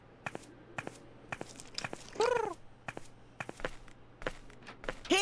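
Cat sounds in the point-and-click adventure game Edna & Harvey: Harvey's New Eyes: a short meow with a rising, wavering tone sounds midway, surrounded by scattered soft taps and light scuffling clicks at a quiet level.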